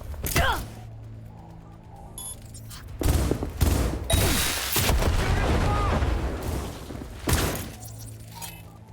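Gunfire in the video game Cyberpunk 2077 comes as loud bursts of shots and blasts, with rattling and thuds between them. Brief voices rise over the gunfire in places.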